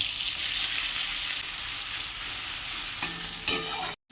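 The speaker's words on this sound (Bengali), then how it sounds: "এবারে দিচ্ছে পেঁয়াজ, কাঁচা লঙ্কা, রসুন, আদা" Onion, green chilli, garlic and ginger frying in oil, a steady close sizzle with a couple of sharp stirring scrapes toward the end before an abrupt cut to silence.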